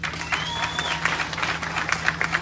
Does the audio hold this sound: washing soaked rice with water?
no